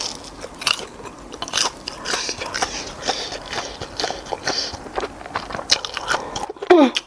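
Someone eats very spicy crunchy pork cutlet right at the microphone, with loud crisp bites and irregular crunchy chewing throughout, and a few brief vocal sounds near the end.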